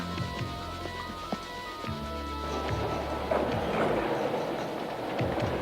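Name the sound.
train running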